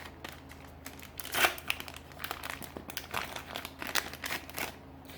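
Crinkly plastic packaging of a screen protector accessories pouch for a Galaxy S8 Plus tempered glass kit being torn and opened up close, with a run of irregular crackling rustles and one louder rip near the middle.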